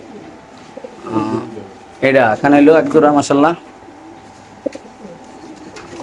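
Pigeons at a pigeon market coo softly in the background, while someone talks loudly and close by over them.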